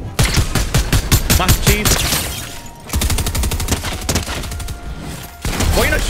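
Rapid bursts of automatic gunfire in the video game Fortnite, dense repeated shots in two or three long volleys with brief gaps, loud and close, with a voice speaking briefly.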